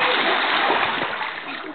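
A person dives into water, giving a loud, close splash with a rushing wash of water that fades over about two seconds.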